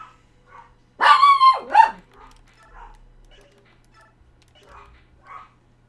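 A dog gives a loud burst of barks and yelps about a second in, followed by faint scattered noises and a little background activity during a game session.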